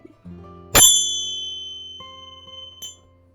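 A few soft taps, then one bright bell strike rings out clearly and lingers with a long shimmering decay, followed by a second, lighter chime, in a Navratri meditation.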